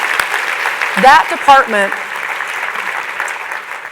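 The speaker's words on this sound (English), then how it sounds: "can we give them an applause?" An audience applauding a city housing department at a State of the City address, steady broadband clapping running throughout beneath someone speaking briefly over it.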